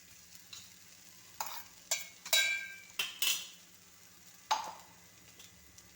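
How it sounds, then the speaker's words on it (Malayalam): A spoon scrapes and clinks against a pan while ground jackfruit seeds fry with spices, several separate sharp stirring strokes over a faint low sizzle, close and clear with no talking. "ഇത് നല്ലതുപോലെ ഇളക്കി യോജിപ്പിക്കണം."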